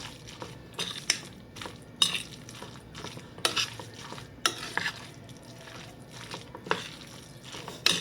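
Lumpia filling mixture stirred in a pan, with repeated scraping and clacking of a spoon against the cookware over a soft background sizzle, the knocks irregular and fairly close.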